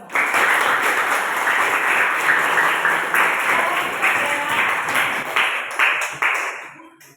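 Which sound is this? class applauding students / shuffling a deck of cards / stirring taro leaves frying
class applauding students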